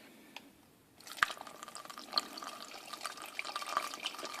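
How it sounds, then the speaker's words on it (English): Juice pours through a funnel into a glass demijohn as part of a home-brewing batch, a steady trickling, gurgling liquid flow that starts after a quiet second and carries on close and moderately loud. "and we pour in our juice."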